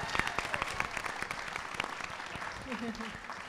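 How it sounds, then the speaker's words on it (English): An audience at a business pitch competition applauds, a sparse patter of individual claps rising and thinning under a host's voice. "one more round of applause"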